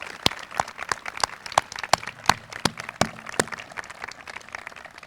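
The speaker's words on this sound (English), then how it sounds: "So I want to give a round of applause to the entire administration" A small crowd claps at the Washington Park School 2021 commencement, with sparse, distinct handclaps in a loose, uneven rhythm rather than a full roar.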